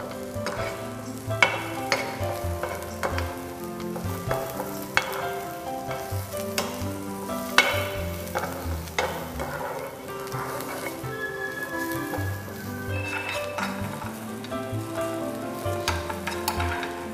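Carrots sauté in a pan, giving a steady low sizzle with repeated stirring scrapes and taps against the pan, partly masked by tuneful background music.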